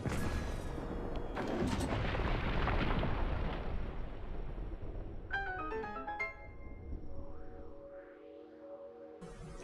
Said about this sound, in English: Fire a cannon at him.